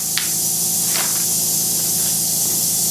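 A homemade can filler leaks, giving off a steady, loud spraying hiss throughout, with a couple of brief sharper spurts near the start.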